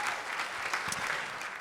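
A conference crowd claps for a managing partner being introduced, a brief, steady burst of applause with a faint voice underneath.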